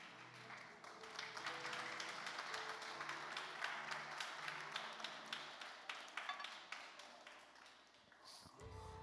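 A church congregation stands and claps, a faint, even spread of applause with some tapping. Low background tones sit underneath, and the clapping cuts off near the end.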